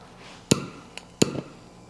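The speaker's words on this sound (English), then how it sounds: "I'm just flattening out that mushroom cap, kind of using that T-bolt" Two sharp metallic hammer blows strike a T-bolt to flatten a mushroom cap during a steering kit install, spaced under a second apart, with a lighter tap between them, close and ringing briefly.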